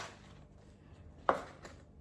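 A knife chops ingredients for homemade loaded hash browns, a single crisp knock on the cutting board standing out above a quiet kitchen background, with a fainter second chop just after.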